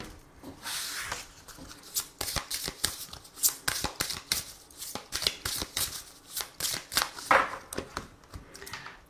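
Tarot cards are shuffled and cut by hand in repeated crisp riffling bursts and flicks, close and clear, with uneven pauses between the runs.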